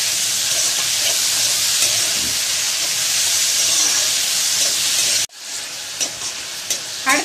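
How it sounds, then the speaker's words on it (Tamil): Ginger garlic paste and tomato fry in hot oil for South Indian tomato rice, giving a loud, steady hissing sizzle that cuts out suddenly, then continues more softly with a few stirring scrapes. "அடுத்து நாம எடுத்து வச்சிருக்க தக்காளியை சேர்த்துக்கலாம். நல்லா கலந்து விட்டுக்கலாம்."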